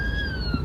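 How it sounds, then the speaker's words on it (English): Ambulance siren wailing at a distance during a wildfire in Los Angeles, a steady high tone sliding slowly downward over low background rumble. "Oh, you just heard the ambulance."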